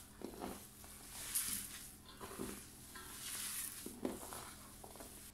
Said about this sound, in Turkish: Ve güzelce bunları da karıştıracağım.